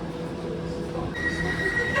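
An underground metro train in London rumbles as it starts moving after its doors close, a steady low drone with a rising metallic whine, people talking faintly nearby.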